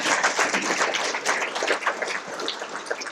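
Audience applause fills a luncheon room, steady dense clapping from many hands at moderate volume, continuous throughout with no speech over it.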